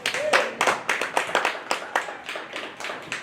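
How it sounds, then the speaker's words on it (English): Applause from a small audience at a county fair dairy goat show, a few distinct, near claps in a loose rhythm, each burst sharp and separate rather than a blended roar. "so let's give her a round of applause."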